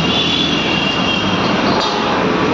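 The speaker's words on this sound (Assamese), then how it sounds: "ওপৰত মেট্ৰ' চলে" Metro train running along an elevated track above a city highway, a steady loud rumble of wheels and carriages that fills the whole stretch without pause.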